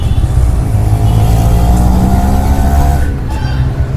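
Road traffic in Pondicherry, with a loud, close engine drone and revving that rise and hold steady over a few seconds, then dip slightly as a vehicle passes.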